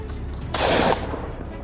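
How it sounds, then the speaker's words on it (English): Gunfire in a wide open field during a wild boar hunt: a sudden, loud, sharp burst that lasts under half a second and stands out over the steady outdoor background. "before the boar could even sense the danger, multiple shots rang out"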